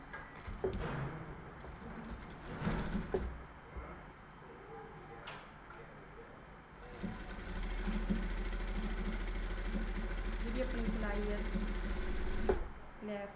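A sewing machine stitches a seam on plain fabric for a salwar suit sleeve opening. Its steady, low motor hum runs through the second half after a stretch of someone talking over handling noises.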